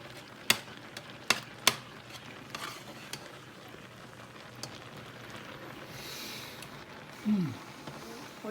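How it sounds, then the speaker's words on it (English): Mac and cheese sauce being stirred in a pan as it thickens, with a few sharp clinks of a utensil against the pot early on and a soft scraping, faint simmering texture throughout, quiet and close with no talking. "you need to stir it so it doesn't burn on the bottom"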